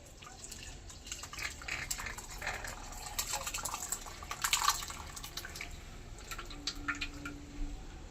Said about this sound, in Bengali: এবারে ছানাটা ছেঁকে নেব।